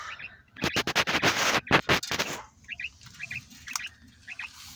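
A male bird calls in a poultry coop with short, high chirps repeating after a loud burst of scratching and rustling, close but fairly soft.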